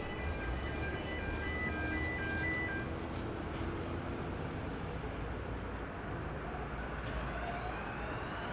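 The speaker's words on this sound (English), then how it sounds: "I hear the distinctive sounds of a plane being towed in for the night." Repeated deedle-deedle beeping from an aircraft tug towing a plane in for the night at Dallas Love Field airport, a high warbling tone pattern over steady loud airport rumble early on, fading as broad noise continues.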